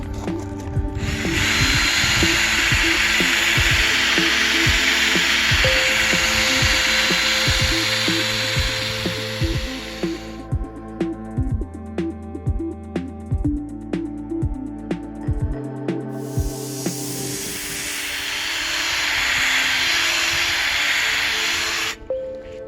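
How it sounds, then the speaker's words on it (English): A power sander with a fine 3000 grit disc works the hazy headlight of a 2012 Honda CR-V, whirring loudly and steadily, then stopping for several seconds of intermittent clicks and taps before spinning up again. "We're trying to clean this up with the fine 3000 grit sandpaper disc level."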